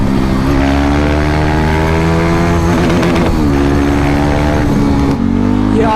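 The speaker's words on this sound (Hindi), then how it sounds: "ये देख रहे हो भाई होंडा सिटी भी क्या लग रही है चलती हुई" A Honda City car racing alongside a motorcycle in traffic, a loud, close, steady engine drone with wind rush that dips and shifts as the vehicles move.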